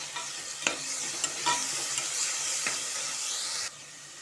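A spoon stirs ginger garlic paste frying in a pan for mushroom biryani, with steady sizzling and a few sharp scrapes against the pan, up close and without voices.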